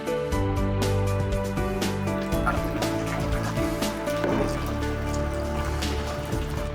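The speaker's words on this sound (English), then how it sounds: "Put the water in here." Water poured into an EMFOCUS therapy machine gives a steady trickling splash that runs the whole time over a constant electrical hum with tonal lines.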